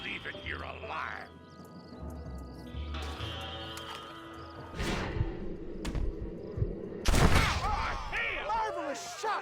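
Gunfire crackles in a Western shootout in Red Dead Redemption, with several sharp shots and a burst of firing mixed with horse sounds, game music and voices.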